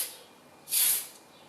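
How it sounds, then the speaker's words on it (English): Spray paint hisses onto a Tamiya Dual Ridge 4WD buggy bodyshell in one short, close burst of about a third of a second, with quiet room tone before and after. "So I need to spray at the right angle, so I'm trying to get into all the corners and creases."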